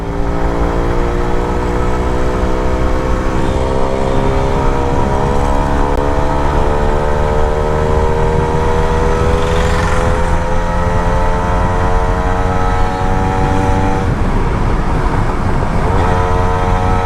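Suzuki Max 100R motorcycle held at full throttle above 60 in fourth gear, a steady, loud engine drone with rising harmonic bands as speed builds, constant wind roar underneath and no talking.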